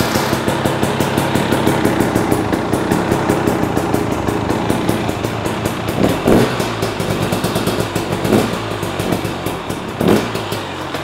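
Dirt bike engine with a freshly jetted carburetor running steadily at a close, loud idle, with brief throttle blips around the six, eight and ten second marks.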